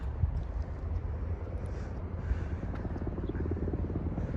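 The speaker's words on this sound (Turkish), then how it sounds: "bak bize geliyor helikopterler" A steady low rumble of helicopters passing overhead at an aviation museum, with wind buffeting the microphone, no speech.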